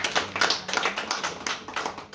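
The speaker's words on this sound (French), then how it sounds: "On peut l'applaudir encore une fois. Bravo Mathieu." An audience at a literary conference for young authors applauds Mathieu, a young writer, with a brief burst of dense, close clapping that holds steady throughout.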